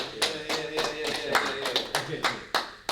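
A small group claps for a musician guest on a podcast, scattered hand claps in an uneven rhythm, close and fairly quiet, with some voices mixed in.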